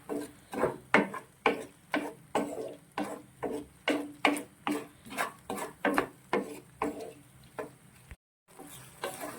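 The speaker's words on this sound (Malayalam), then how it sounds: "നന്നായിട്ട് ഇതെല്ലാം കൂടി ഒന്ന് മിക്സ് ചെയ്യുക." A spatula rhythmically scrapes and stirs chopped tomatoes into a sauce mixture in a pan for chilli gobi, with about twenty regular rasping strokes, close and steady, and a brief pause near the end.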